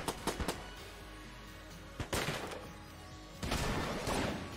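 Gunfire in the video game Enter the Gungeon comes as a few sharp bursts of rapid shots separated by quieter gaps, fairly faint overall and with no talk.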